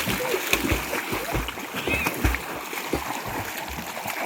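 A child swims during a swimming lesson, ducking the head under and lifting it while moving through the water, making repeated close splashes and sloshes in an uneven rhythm, with no talking.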